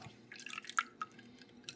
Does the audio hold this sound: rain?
no